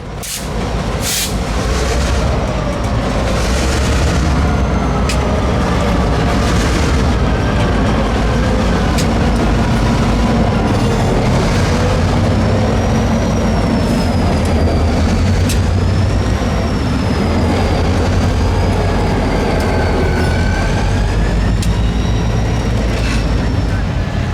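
A Reading and Northern locomotive works the lead toward an abandoned coal breaker, its engine rumbling loudly and steadily alongside clanking railcars, with long wavering squeals of wheels on rail.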